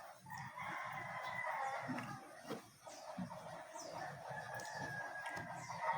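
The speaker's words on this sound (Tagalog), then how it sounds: "May mga tumitilaok na manok." Several roosters crow from next door in a residential neighborhood, their long drawn-out calls overlapping at moderate distance over a steady background of low clatter and room noise.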